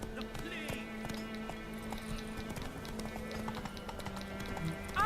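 Steady clip-clop of a horse's hooves at a quick pace in The Witcher 3: Wild Hunt, with a constant background hum and faint game sounds.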